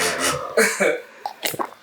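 A few short, harsh coughs in quick succession, close to the microphone, with brief pauses between them.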